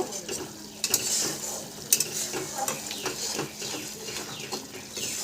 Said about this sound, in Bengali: জিরের গুঁড়ো, হলুদ গুঁড়ো। মশলাটাকে ভালো করে কষিয়ে নেব।